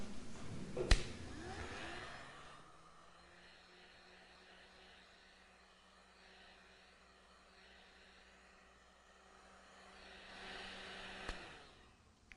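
A hair dryer blows steadily over fresh paint on a painting of the Virgin of Guadalupe, a continuous airy whir lasting several seconds and bracketed by a sharp click or tap at each end.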